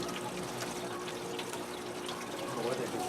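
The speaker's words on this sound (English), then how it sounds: "I'm just going to hook up the water and see what happens" Water gushing from a garden hose into a Garden Tower 2 planter, a steady broadband rush of flow that stays even throughout and swells slightly toward the end.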